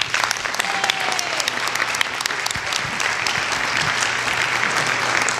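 A church congregation at an Earth Day service applauds in welcome for Kelly, a loud, sustained wash of clapping from many people throughout.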